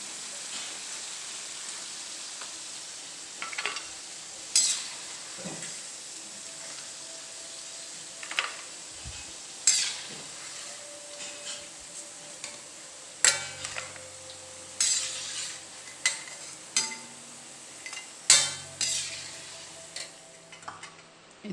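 Jackfruit manchurian sizzles steadily in a frying pan while a spoon stirs it, with repeated scraping clinks against the metal at an uneven rhythm, close by and with no talking.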